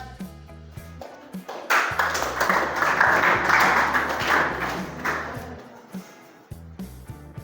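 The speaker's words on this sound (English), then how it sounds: "Claps." Classroom students clapping together, a burst of applause that rises, holds for a few seconds and fades, with quieter tones and taps before and after.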